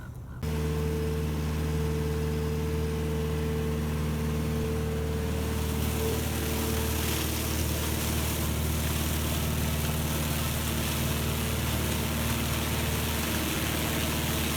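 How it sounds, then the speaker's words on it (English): A tractor running a flail mower in a crop field drones steadily at a constant pitch, close and unchanging, with a brief cutoff at the very start and no talking. "now that we've actually run the flail mower through the field"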